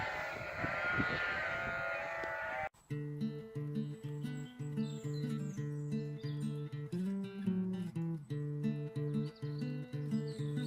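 Sheep bleat in a series of short, close, fairly loud calls with brief gaps between them, following a burst of wind-like noise at the start, with no talking.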